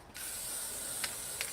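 Black spray paint hisses steadily from an aerosol can onto canvas in one continuous close blast, with two faint rattling clicks near the end.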